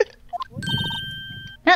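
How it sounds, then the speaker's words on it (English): A comic tripping sound effect from the Phoenix Wright: Ace Attorney video game: a short burst of stacked electronic beeps that holds a steady tone, then a sharp clatter at the end, with a brief voice just before. "Uh-oh, she tripped. Ah, right, that's the sound of tripping."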